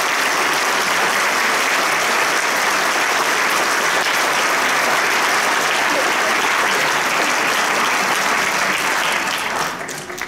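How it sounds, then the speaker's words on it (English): Middle school choir students receive sustained applause from a concert audience, a loud, dense, even wash of clapping that holds steady for about ten seconds before tapering off at the end. "You want to give these students a round of applause?"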